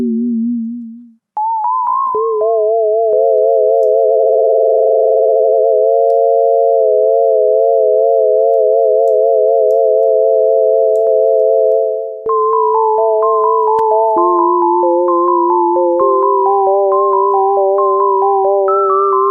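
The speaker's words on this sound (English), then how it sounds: "we have built a very basic synth" A basic synthesizer built with an LFO plays a pure tone that wobbles and warbles in pitch, shifting between held notes and then stepping through a quick melodic sequence, loud and alone.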